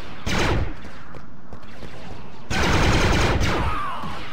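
Blaster fire from an Imperial Heavy Repeater and Plasma Caster in the shooter game Star Wars Battlefront 2 on a desert ruins map: two loud, dense sustained volleys of rapid shots, one long burst after another, with no speech.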